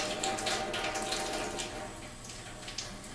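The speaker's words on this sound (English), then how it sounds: "we're going to turn our water back on, and we're going to flush the rest of that cleaning powder through the machine" Water rushes steadily through an Enagic water ionizer machine as cleaning powder is flushed out during a cleaning cycle, a continuous, fairly close hiss of flowing water with no pauses.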